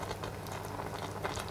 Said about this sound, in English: At this stage we can stop boiling the chicken and put it aside in another pan